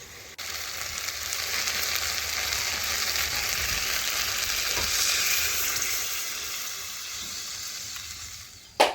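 Chicken curry frying in a pan after water is added, a steady loud sizzle and hiss with faint stirring scrapes, ending with a brief clatter.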